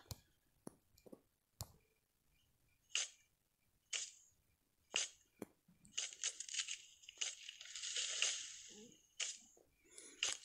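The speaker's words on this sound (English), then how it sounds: "now we need to cut down some trees" Axe strikes chopping down trees in the Jurassic survival video game Copy Cat, a series of sharp separate chops spaced out over several seconds, followed by a denser crackling, rustling stretch of splintering and falling wood.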